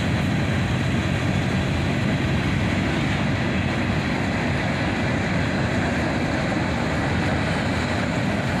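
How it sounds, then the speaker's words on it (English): A long CSX autorack freight train rolls past with distributed power locomotives, a loud, steady rumbling roar of wheels and cars that holds constant throughout, close by and without talk. "we're going to let the whole train play out here to fill out the rest of the video."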